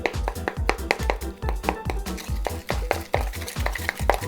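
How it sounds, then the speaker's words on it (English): A spatula stirs cinnamon roll filling in a bowl with steady, rhythmic scraping and soft thuds, about three strokes a second, close and clear with no talking. "now we're gonna mix this with a spatula till it's smooth"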